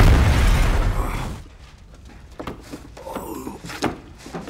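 An oxygen cylinder in a fire bursts in a film scene, giving a loud, dense low rumble that fades after about a second, followed by scattered clattering and rustling debris sounds.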